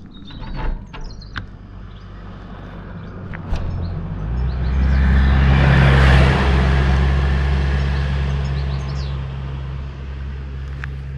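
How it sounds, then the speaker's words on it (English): A car passes along a narrow country road in Wales, its engine and tyre rumble swelling from faint to loud near the middle before fading away slowly, with a few light knocks and birdsong early on. "Why drive a car that's like the same width as the road?"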